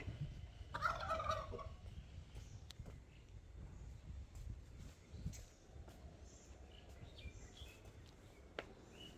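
Chickens in a village: a burst of clucking calls near the start over a noisy outdoor background, then low rustling ambience with scattered faint clicks.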